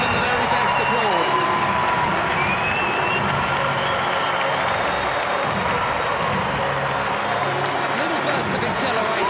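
A packed stadium crowd at a World Cup football match between Portugal and Nigeria applauds, a continuous dense roar of clapping and crowd noise that fills the whole stretch at high, even loudness.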